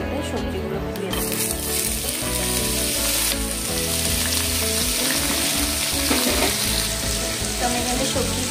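Vegetables dropped into hot oil with a dried chili, sizzling loudly and continuously in a pan, with stirring clatter and a brief burst of water noise near the start.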